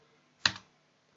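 A single quick burst of keys on a computer keyboard while entering a command in Rhino 3D modeling software, one short clattering keystroke cluster, close and alone in a quiet room.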